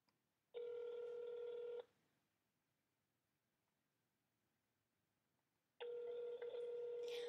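A telephone call rings out in two long electronic ring tones, each over a second, separated by a few seconds of near silence, clear and close.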